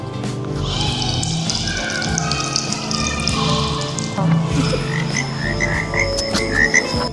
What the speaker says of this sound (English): Oh, the sound of frog.